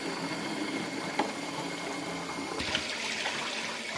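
Water runs and splashes inside a large water bottle during a rinse, a continuous rushing gush that brightens and swells partway through, near and alone.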